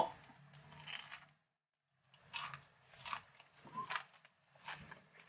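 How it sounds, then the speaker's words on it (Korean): Crisp bites and chewing of candied sweet potato with a thin, hard sugar coating, heard close up as a series of crunchy bursts with a short quiet pause early on. "겉에 설탕이 얇게 코팅이 돼가지고 바삭바삭 소리가 아 너무 맛있다"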